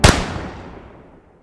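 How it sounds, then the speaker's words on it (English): A single sharp explosion in the Superstition Mountains: a loud, close blast that rolls off into a fading rumble over about a second and a half, with no voices. "An explosion went off."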